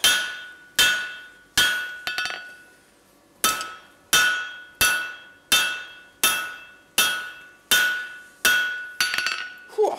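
A blacksmith forging tongs strikes hot steel on the flat of an anvil, giving about ten sharp ringing hammer blows at a steady, unhurried pace, each ringing out briefly, with one longer pause partway through.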